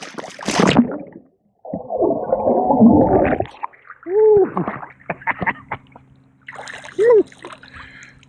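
Splashing in the cool open water of Georgian Bay during a first swim of the year: a sharp splash burst, then a longer churning wash, followed by scattered smaller splashes and gurgling sounds, all fairly close.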